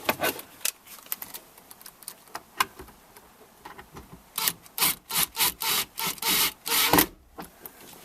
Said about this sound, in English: Get our drill here.